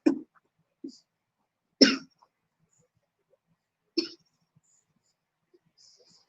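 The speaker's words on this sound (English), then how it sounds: "That's a bad cough." Several short, sharp coughs at irregular intervals, close by, with quiet pauses between them and no talking.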